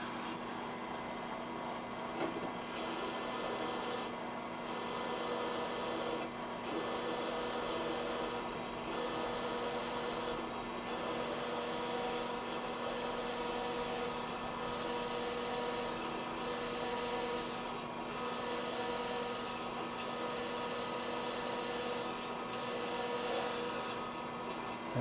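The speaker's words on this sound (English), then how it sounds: "One amazing thing about the annular cutters is that they don't throw up much of a burr when they're cutting through" An annular cutter in a magnetic drill boring through metal during a camera jib repair, a steady droning motor whine with a rhythmic pulsing grind repeating every couple of seconds, close and continuous.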